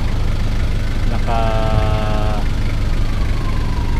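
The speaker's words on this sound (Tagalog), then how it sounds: "nagpapainit na naman tayo ng sasakyan" A Nissan Frontier pickup's engine idles steadily while warming up, a constant low rumble running throughout, with a brief tonal whine rising over it midway.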